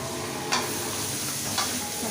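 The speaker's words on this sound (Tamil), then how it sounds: "வெங்காயம் போட்டு வதக்கிட்டு மட்டன் போட்டு வதக்கணும்" Onions and mutton sauté in a hot pan for a mutton gravy, a continuous sizzling hiss broken by two brief stirring scrapes, close and alone.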